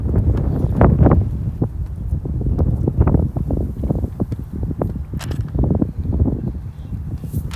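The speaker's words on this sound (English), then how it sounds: "This wind has been ever present and gusting yet again." Gusting wind sweeps across an outdoor lawn bowls tournament green, buffeting the microphone with a loud, continuous low rumble that surges and eases in uneven bursts.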